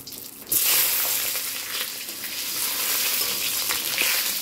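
Matar dal fritters dropped into hot oil break into a sudden loud, bright sizzle that keeps bubbling steadily, close and with no voices.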